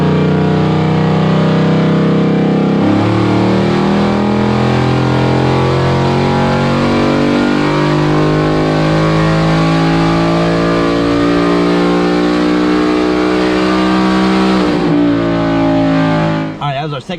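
Supercharged Mustang with a VMP Odin and GEV 5 Whipple setup, pulling hard on a dyno, engine pitch climbing in one long sustained loud run, then cutting off at the end.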